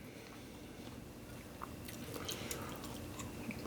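Someone chewing a Bad Daddy's burger with a full mouth, producing soft close wet squishes and bites that grow slightly busier toward the end, with no talk.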